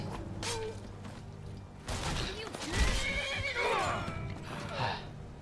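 A horse in Skyrim whinnies loudly and close, its neigh rising and wavering, with clopping hooves and creaking around it amid ambient game sound.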